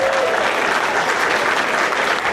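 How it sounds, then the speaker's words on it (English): School audience applauding at a music program event, dense continuous clapping from a large crowd, loud and sustained throughout with no pauses. "Big clap for Mrs. Lockett."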